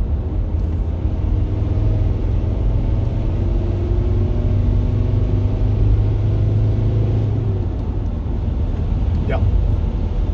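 A VW T5 van rolls along with a steady low engine rumble and road noise, gear changes blending into the continuous drone, with no clear pauses.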